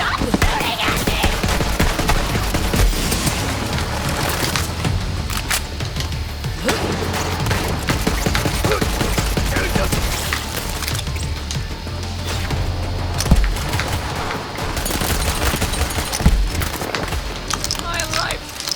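Bursts of rapid gunfire and impacts fill a Borderlands 3 firefight, loud and dense throughout, with voices shouting over the shooting.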